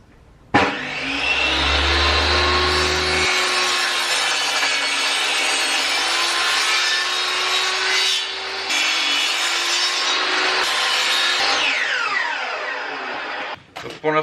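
A wood piece being sawn to square for a guitar build, with a long, loud continuous cutting sound that stops briefly around the middle, resumes, then fades out near the end.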